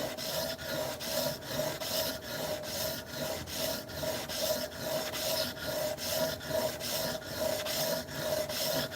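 An old masonry chisel is sharpened on a 400 grit stone, a close, steady rhythmic rasping, back-and-forth strokes about twice a second, continuing alone without speech.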